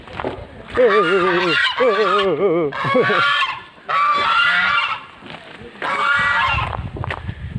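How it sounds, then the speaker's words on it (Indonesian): Geese honk loudly and repeatedly at close range in a village in West Lampung, their harsh wavering calls coming in several overlapping bursts with brief gaps between them. "Angsa."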